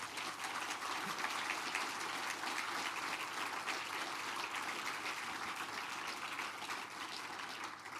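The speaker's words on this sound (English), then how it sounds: "Let's give them a round of applause." An audience applauds at a literary award ceremony, a dense, sustained wash of many hands clapping at an even level throughout, with no speech over it.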